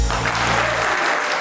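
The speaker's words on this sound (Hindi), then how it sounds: "भरपूर तालियों में इस्तकबाल कीजिएगा" A studio audience on a TV talk show gives a short, loud burst of applause to welcome the host. Low musical tones run underneath and drop away partway through.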